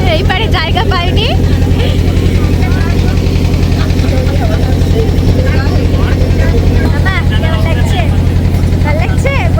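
A boat engine drones steadily and loudly throughout a river boat ride at Mayapur, with voices talking over the constant low hum.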